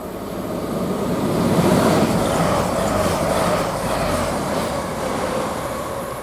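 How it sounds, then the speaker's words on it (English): A Grand Central class 180 train on a King's Cross to Sunderland service runs through Grantham station, a steady rumbling roar that swells near the middle and holds without a pause, with no voices over it. "Now we got a London King's Cross to Sunderland first service, Grand Central, passing at 1359, working on class"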